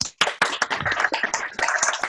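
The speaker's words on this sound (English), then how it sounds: "I'd like to ask everyone to unmute themselves so we can applaud" Participants in an online Toastmasters meeting clap after a keynote, a scattered run of sharp, uneven hand claps from several people coming through call audio, fairly close and moderately loud.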